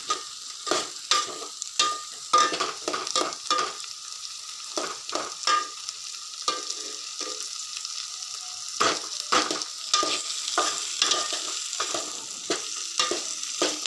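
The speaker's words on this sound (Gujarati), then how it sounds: "ફુલાવરને બી જ્યાર સુધી તે ચડે ના ત્યાર સુધી એને આપણે હલાવી રાખીશું" Cauliflower added to onions fries in oil while being stirred, rhythmic spatula scrapes and tosses punctuating a continuous nearby sizzle, the strokes coming in irregular bursts throughout.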